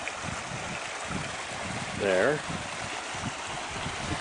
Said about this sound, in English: And the creek going on down.